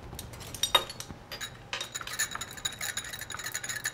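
Ingredients for Italian sprinkle cookies are mixed in a bowl, heard as quick light clinks and scrapes of a utensil against the bowl, irregular and close, with no talk.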